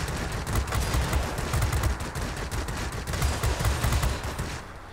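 A rear gunner in World of Warplanes fires a long, loud, continuous stream of rapid machine-gun bursts with a dense rattling texture and no pause in the shooting.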